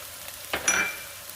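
Garlic hitting a hot pan for pastalaya gives a short, soft burst of sizzling with a faint stir and clink, then settles quickly.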